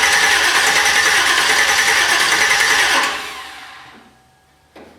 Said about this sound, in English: just crank it a little bit, see what it does